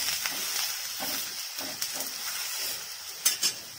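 Adai, a thick lentil pancake, cooking in oil on a pan, a quiet crackling sizzle with a few sharper pops and spatters near the end, close and faint, with no voices.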